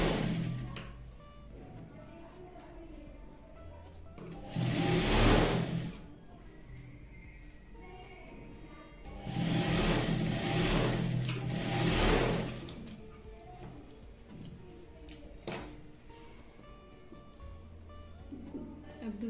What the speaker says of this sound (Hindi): ऐसे करके इसके ऊपर भी हमें सिलाई चलानी है।